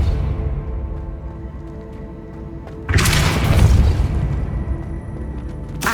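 A Depulso spell blast in the game Hogwarts Legacy: a sudden loud broadband boom that swells and rumbles for a couple of seconds after a quieter tonal stretch, then tails off, with a second burst starting at the end.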